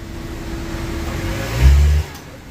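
A car engine in a repair shop, with the new TCU not yet installed, idles low and then gives one short throttle blip that swells loudly for about half a second before falling back to idle.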